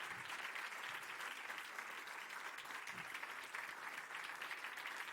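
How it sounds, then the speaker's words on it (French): Sustained applause from a large crowd at a high school talent show, a steady wash of clapping that stays loud and even from start to finish. "Très belle main d'applaudissements."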